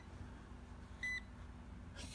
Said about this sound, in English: That's the beep that we want to hear.